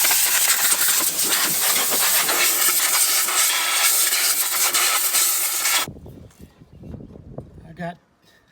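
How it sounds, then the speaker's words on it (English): Compressed air blasts steadily into the gearbox of a Troy Bilt tiller, a loud, continuous broadband hiss lasting about six seconds before cutting off abruptly, followed by faint, scattered handling noises. "I'm gonna blow out the gearbox"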